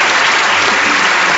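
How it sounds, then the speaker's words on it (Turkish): Dense, loud applause from an audience clapping for a boy on a comedy stage, a steady wash of many hands that fills the short moment with no talk. "Dede sen niye alkışlıyorsun çocuğu?"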